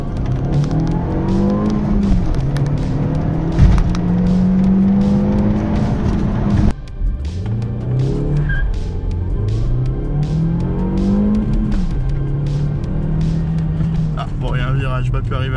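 Audi A3 1.8T with 180 hp accelerating hard from standstill, engine note climbing through the gears with a shift break partway, heard from inside the cabin at steady loudness.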